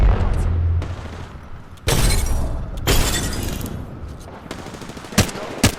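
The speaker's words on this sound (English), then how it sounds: "Throw an arc star. Grenade out." Arc star grenade in Apex Legends thrown and detonating amid a game firefight, with bursts of loud crackling blasts and sharp impacts, several heavy broadband explosions spaced across the moment, close and loud with game sound around.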